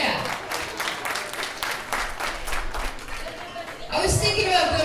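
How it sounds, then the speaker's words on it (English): A comedy show crowd claps in a loose burst, moderately loud and irregular, then a voice begins talking over the fading applause near the end. "Clap if you remember Tink."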